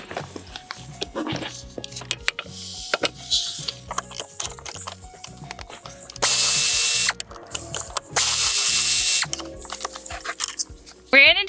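A ratchet removes the last bolt holding a rear seat in a Toyota Highlander. Close, crisp runs of clicking come in bursts, with louder scraping noise in between.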